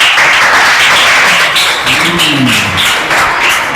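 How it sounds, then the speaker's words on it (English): Classmates clap in a classroom: a steady, dense patter of many hands running the whole stretch, with a brief voice sounding underneath midway. "Clap for him."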